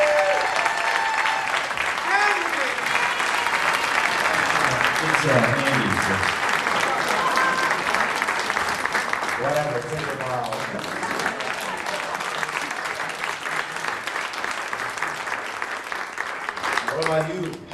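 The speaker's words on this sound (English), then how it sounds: "Give him a round of applause if you would." Sustained audience applause at a live evening concert, dense clapping filling the room for many seconds while someone speaks over it.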